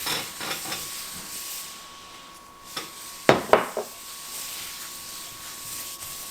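Oil sizzling on a chapati in a hot pan, a soft continuous hiss with a faint steady tone, broken by a few sharp clacks and crackles near the middle.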